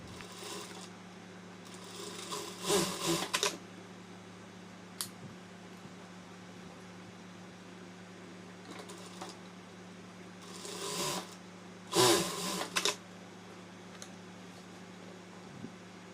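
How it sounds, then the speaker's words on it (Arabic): Sewing machine stitching binding tape onto a sportswear garment, face to face, in short separate bursts of whirring with quiet pauses between, over a steady low hum. "ونبدأ نخيط."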